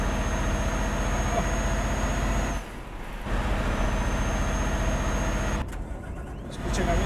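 Truck engine in Euro Truck Simulator 1.37 multiplayer, a loud steady drone that cuts out twice into near silence and then rumbles back, like the engine dying and restarting.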